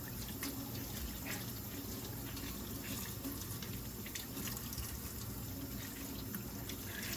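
Tap water runs steadily into a sink during makeup brush and beauty blender cleaning, a faint continuous splash with small drips, no talking.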